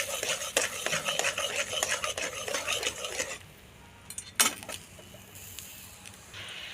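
Mustard paste and ginger paste being stirred with water in a pan for a steamed hilsa dish: brisk, rhythmic spoon scraping against the metal with a faint sizzle, then it slows, with a sharp clank near the end.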